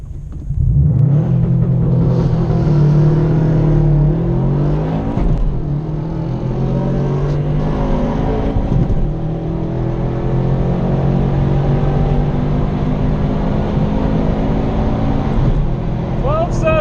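A Mustang roars hard down a drag strip on a timed pass, a loud sustained engine rumble with rising revs filling the whole stretch, while people talk and cheer over it.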